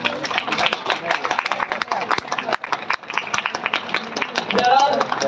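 Dense applause from a crowd fills the room at a 2023-24 budget panel discussion, with a voice speaking over the clapping.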